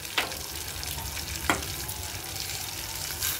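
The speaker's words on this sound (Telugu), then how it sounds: "మనం ఇప్పుడు తాలింపు సరుకులు ఒకదాని వెనకాల ఒకటి వేసుకుందామండి." Mustard seeds and cumin tempering in hot oil crackle with a steady, close, loud sizzle, broken by a couple of sharp pops.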